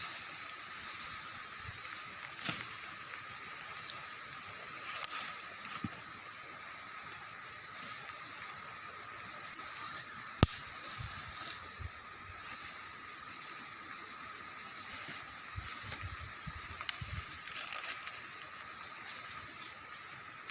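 Rain falling outdoors during a windy downpour, a steady broad hiss with scattered louder patters and drips, fairly faint and without talk.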